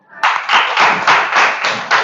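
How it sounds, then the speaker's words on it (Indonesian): Classroom students clap for a classmate in a fast, evenly spaced rhythm of loud, near claps, about eight beats in two seconds. "Tepuk tangan untuk Joy."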